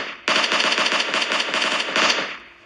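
Rapid automatic gunfire in the mobile battle-royale game PUBG Mobile Lite, a loud sustained burst of closely spaced shots fired by a teammate, lasting about two seconds before cutting off.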